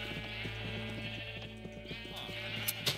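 Sheep in Minecraft bleat in game audio over a steady, rhythmic background music pattern, with a couple of sharp clicks near the end.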